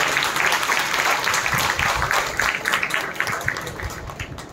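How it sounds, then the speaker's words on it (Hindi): Audience applause at an educational conference, a full hall clapping steadily and loudly before tapering off toward the end, with a few voices underneath. "एक बार सरकार का इस्तकबाल तालियों के साथ हो तो ज़्यादा।"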